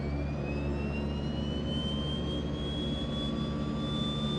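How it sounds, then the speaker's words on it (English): Left engine of a DHC-6-300 Twin Otter in a flight simulator spooling up, a steady loud turbine whine rising slowly in pitch over a constant low engine drone. "Let's go ahead and go for the left engine start."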